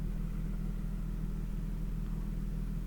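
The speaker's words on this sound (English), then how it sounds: "engine seems to be running really well." A 1992 Nissan Skyline GTS-T Type M four-door sedan idles with a steady, even low hum, close by and uninterrupted, with no talk over it.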